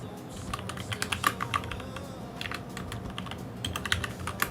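Quick, irregular clicking of a computer keyboard during coding, close and clear, with bursts of keystrokes and short pauses.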